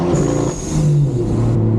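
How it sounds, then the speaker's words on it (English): A 430hp Stage 2 tuned car running on 95 octane fuel roars loud and close, its blow-off valve hissing over the overrun brap as the engine note falls. "The blow-off valve combined with the overrun brap, in my mind, is the perfect combination."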